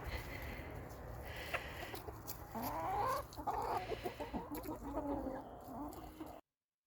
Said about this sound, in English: Chicken sounds.